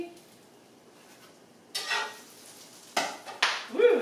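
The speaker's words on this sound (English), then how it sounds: "I hear this thing popping, so let me check our sandwich" A gourmet grilled cheese sandwich with onion pops and sizzles in a hot pan, with bursts of crackling frying noise that come in short clusters and grow louder toward the end.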